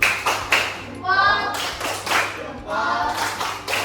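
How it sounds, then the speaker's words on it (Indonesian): Elementary school pupils in an Indonesian classroom perform a patterned clap salute: several sharp, rhythmic bursts of group clapping in quick sets, close and loud, with voices chanting along between the claps. "Kita tepuk salut untuk Kiki ya."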